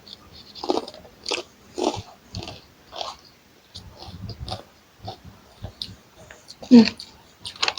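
Kerupuk crackers are bitten and crunched close to the mic in a run of sharp, rhythmic crunches with short pauses between bites; a bit of mouth noise and light vocal sound comes through.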